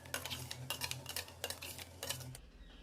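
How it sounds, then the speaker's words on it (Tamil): Coconut chutney scraped and tipped from a container into a cup: a handful of close metallic clinks and scraping strokes in quick irregular succession, stopping abruptly near the end. "இப்போ ஒரு கப்பில் ஊற்றிக்கலாங்க."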